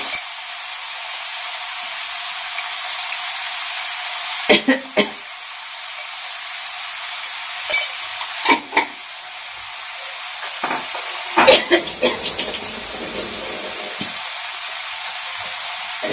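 Masala of turmeric, salt and Kashmiri chilli powder is sautéed in a pan for a thin hilsa and brinjal curry. A constant hissing sizzle runs throughout, broken by a few spoon knocks and scrapes.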